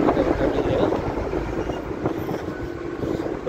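A Riyadh metro train passing in the city, heard as a broad, steady rushing rumble with wind buffeting. The sound is loud and close, holds evenly for a few seconds and eases slightly toward the end.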